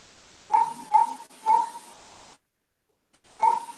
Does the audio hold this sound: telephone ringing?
no